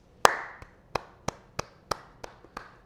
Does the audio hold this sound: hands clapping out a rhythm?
yes